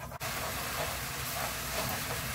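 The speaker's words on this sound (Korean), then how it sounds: "양념을 바글바글 끓여주세요." Korean seasoning sauce with cooking oil bubbling in a pan for a dried pollock stir-fry, a steady, close hiss with a brief dip near the start.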